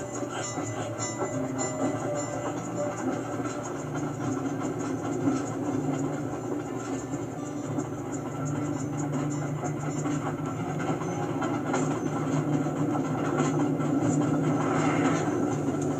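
A train running in the video game Sly 2, giving a steady, continuous rumble with faint rhythmic clatter throughout, fairly loud and unbroken with no speech.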